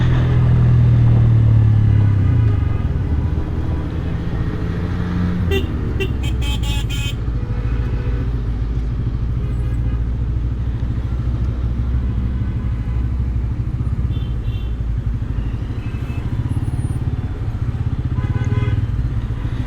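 Dense road traffic jam on the road into Purbachal rumbles close by, engines idling and revving, with car horns tooting now and then amid the congestion.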